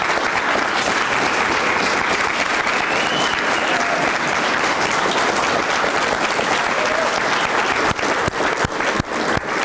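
A crowd at a poetry night stands and gives the kids a round of applause, loud and dense for the whole stretch, with a few sharper claps toward the end as it begins to thin.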